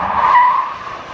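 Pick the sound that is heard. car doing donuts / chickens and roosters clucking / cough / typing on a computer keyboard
car doing donuts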